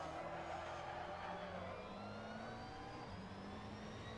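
A GT3 race car in the Assetto Corsa video game, lapping Barcelona, holds a steady, droning engine note with layered harmonics that barely change pitch for the whole stretch.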